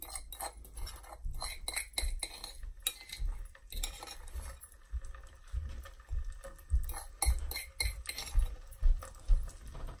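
Garlic is added to melted butter in a pan, and a metal spoon clinks and scrapes repeatedly. Several sharper clinks come late on, over a soft background sizzle.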